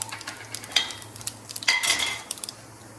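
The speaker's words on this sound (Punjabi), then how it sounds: "ਹੁਣ ਆਪਾਂ ਲਾਉਣੀ ਆ ਸਰੋਂ ਦੇ ਤੇਲ ਦਾ ਤੜਕਾ ਤੇ ਥੋੜਾ ਜਿਹਾ ਨਾ ਟੇਸਟ ਵਾਸਤੇ ਆਪਾਂ ਇਹਦੇ 'ਚ ਜੀਰਾ ਐਡ ਕਰ ਦਿੰਨੀ ਆ" Cumin seeds tempering in hot mustard oil for a whole okra curry give short bursts of hissing sizzle mixed with light metallic clinks of a spoon and pan, fairly close and with no voices.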